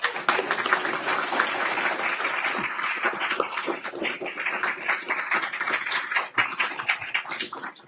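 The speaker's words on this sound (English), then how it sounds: "I think we should get a nice round of applause for all of our trustees." An audience at a board of trustees meeting applauds the trustees, a sustained round of dense clapping from a room of people that thins slightly toward the end.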